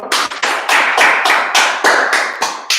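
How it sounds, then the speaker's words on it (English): Sharp, loud handclaps in a steady rhythm, about nine beats spaced roughly a third of a second apart, close up and without talk, from a small gathering at a night history class. "All right, clap it up."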